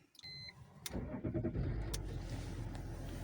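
A BMW E46 3.0 touring wagon starts up: a couple of clicks and a brief starter crank, then the engine catches and settles into a steady, close idle rumble with a light knock over it.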